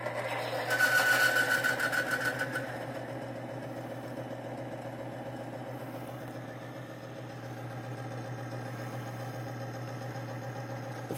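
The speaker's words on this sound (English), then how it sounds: "as this bearing is failing, I'm just going to rub a little Thixogrease right in the middle of the race" A failing Timken bearing spins on a test machine with Thixogrease rubbed into the race, giving a steady mechanical whir and hum with a louder, rougher burst early on before settling to an even drone.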